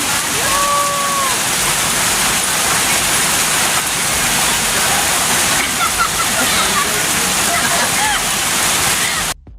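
Heavy rain pours down steadily and loudly, a dense hiss that continues unbroken for the whole stretch before cutting off at the very end, with faint chirps or voices barely showing through.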